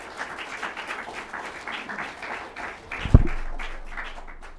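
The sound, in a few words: audience applause at ceremony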